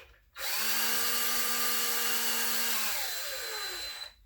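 Power tool whirring steadily as it runs cylinder head bolts down on a GM 2.4 Twin Cam engine, pitch sagging as it slows near seating, a few seconds long, close with no talk.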